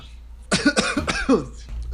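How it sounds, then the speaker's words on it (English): A person coughs hard in a quick burst of several harsh, closely spaced coughs, loud and near, with a short wheezy tail at the end. "I'm having a coughing fit."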